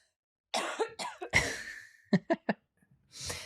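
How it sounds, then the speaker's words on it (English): Several close coughs: a couple of harsh bursts, then three short sharp ones in quick succession, with a breathy exhale at the end. "lean back from the mic right now and cough."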